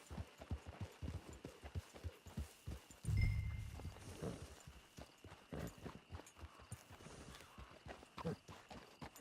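Horse hooves clip-clop steadily at a walking pace in Red Dead Redemption 2, close and rhythmic, with a brief louder thump and occasional faint voices over the hoofbeats.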